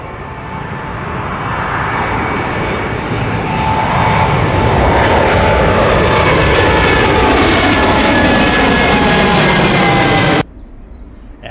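An airliner approaching a runway at Manchester airport, its engine roar building steadily and filling the scene at close range before cutting off abruptly near the end.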